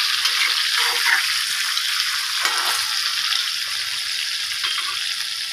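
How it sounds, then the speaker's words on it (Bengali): Potato pieces tossed with turmeric and a little salt fry in hot oil in a pan, giving a steady, close, continuous sizzle and crackle throughout with no voices. "আলুগুলো ভেজে নিচ্ছি।"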